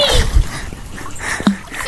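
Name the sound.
person wading into a pond, water splashing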